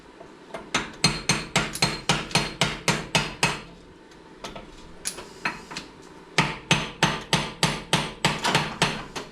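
Sharp metal-on-metal hammer blows beat on a stuck part in quick bursts of about eight to ten strikes each, with short gaps between the runs, loud and near.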